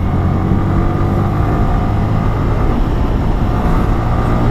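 A Yamaha R15 V3 motorcycle engine pulls hard through the mid-range during a test ride, a steady loud drone with wind rush running throughout, close and continuous with no talk.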